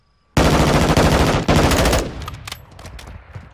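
Loud, dense burst of automatic gunfire in Call of Duty: Modern Warfare, a rapid rattle lasting about a second and a half, then a second volley that fades into scattered echoing shots and debris.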